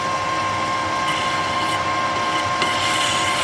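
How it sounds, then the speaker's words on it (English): A chamfer tool breaks the edge of a metal part for a handmade custom Triumph lowrider motorcycle, giving a steady high-pitched machining whine with a constant tone, close and continuous, no speech. "we can come in with a chamfer tool. Like that. I can break that edge"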